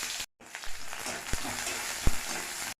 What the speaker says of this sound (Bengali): আমি এখানে তেল দিয়েছি, 5 ফোড়ন দিয়ে, ফোড়নটা হালকা লাল হয়ে এলে এখানে দিয়ে দেবো পেঁয়াজ